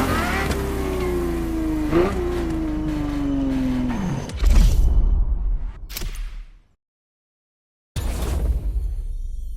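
Ferrari GTO engine in The Crew Motorfest, a loud revving note climbing and shifting gears, then a whooshing roar, a near-silent gap, and the engine noise returning abruptly.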